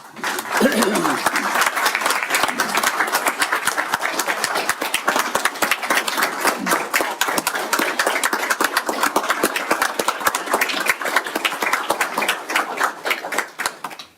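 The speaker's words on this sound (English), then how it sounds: "he just deserves a round of applause for his action" Sustained clapping from a crowd at a county board of commissioners meeting, dense and steady for the whole stretch, with a voice briefly audible near the start.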